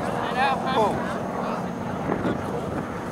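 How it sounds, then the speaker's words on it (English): A T-6 Texan with a radial engine flies past at a 2005 Rhode Island airshow, a rough engine drone that swells and falls in pitch as it passes, with wind noise over the open-air recording. "Sound of those radial engines as they come by"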